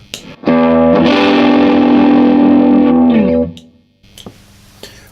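An electric guitar chord played through an overdrive pedal rings out thick and overdriven, sustaining for a few seconds before fading, followed by a couple of faint clicks.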